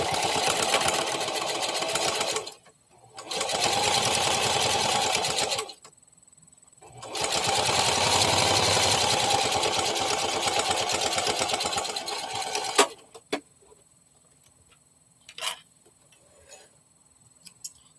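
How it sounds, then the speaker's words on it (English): Sewing machine stitching down the center front of a fabric Brookie Bear body, running in three steady bursts of whirring stitches separated by short pauses, then stopping, with a few faint clicks and handling sounds afterward. "we're just going to sew directly down the center of the front"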